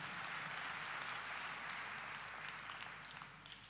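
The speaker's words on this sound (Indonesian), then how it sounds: "Yang setuju berikan tepuk tangan yang meriah" A church congregation applauds during a sermon as a soft, distant wash of many hands clapping that slowly fades toward the end.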